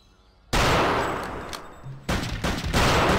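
Gunfire in Return to Castle Wolfenstein, a co-op shooter match: sudden loud sustained bursts of shots begin after a quiet start, with a brief lull before another dense volley.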